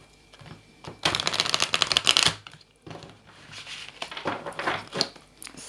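Tarot cards being shuffled in quick, crisp riffling bursts, one long loud flurry followed by a pause and then a softer, scattered round of shuffling up close.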